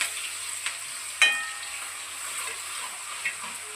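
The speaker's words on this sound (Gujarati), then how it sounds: "તમાલપત્ર અને મરચું જો સરસ મજાનો વઘાર છે" Bay leaf and chili sizzle in hot oil as a tempering for dal dhokli, a steady hiss with a sharp burst of spluttering partway through and a few smaller pops.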